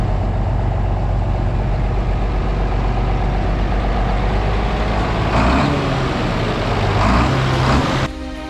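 The diesel engine of a 1974 John Deere 7520 four-wheel-drive tractor runs steadily, a loud, close, continuous rumble that surges slightly before dropping off near the end.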